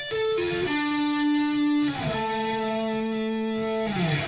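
A guitar sweep arpeggio falls from a high note to lower ones, each clear sustained note stepping down in pitch and ringing smoothly into the next, close and alone.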